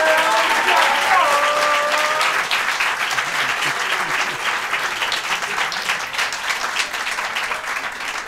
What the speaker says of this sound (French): on applaudit très fort la naissance de cette nouvelle chaîne via Grand Paris